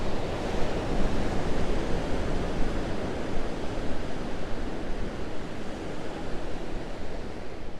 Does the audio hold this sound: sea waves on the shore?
yes